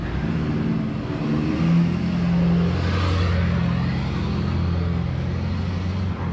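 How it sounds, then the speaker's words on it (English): Cars pass on a road beside a hiking trail, a steady loud engine rumble and tire roar swelling and holding close by, with no talking. "We'll just wait for the cars to go by."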